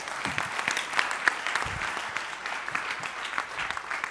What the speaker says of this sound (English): Give yourself a round of applause for that one